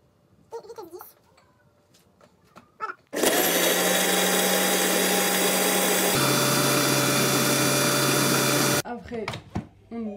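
A Thermomix spinning at speed 10 with a cup of water and the lid on, a loud steady whirring roar lasting several seconds that shifts pitch midway, with a voice speaking before and after.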